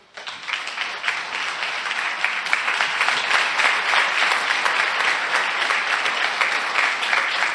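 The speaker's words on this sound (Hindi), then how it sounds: "तालियां बजाइए।" An audience bursts into sustained applause, dense and fairly close, rising quickly and holding steady for several seconds with no speech over it.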